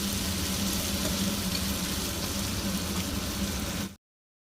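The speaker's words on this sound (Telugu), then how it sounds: "మటన్ బాగా కొంచెం ఆయిల్లో ఫ్రై అయిందండి." Mutton sizzles in oil with onions for a mutton curry, a steady close frying hiss with faint bubbling that stops abruptly.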